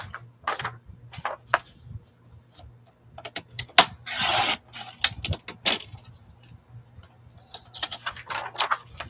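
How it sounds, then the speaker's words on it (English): Paper collage images being trimmed at the edges, close soft scissor snips and papery rubbing in irregular bursts against a quiet background, with no talk. "I'm just trimming off any rough edges"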